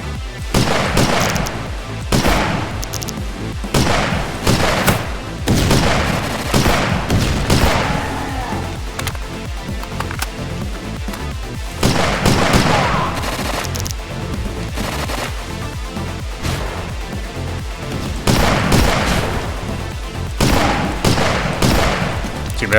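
Uzi fire in the boomer-shooter game Dragonfly: repeated loud bursts of rapid automatic shots with booming impacts, coming in clusters separated by short pauses over a long stretch.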